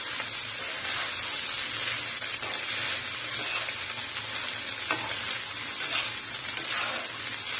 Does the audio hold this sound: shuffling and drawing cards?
no